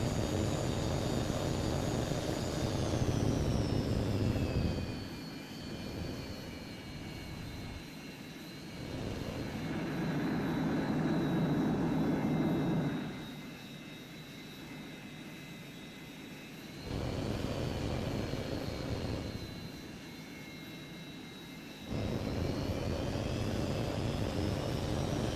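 Jet plane engine during aerial refueling in the video game HAWX 2, a steady high whine with a rushing roar that swells and drops back several times as thrust changes, heard alone without talk.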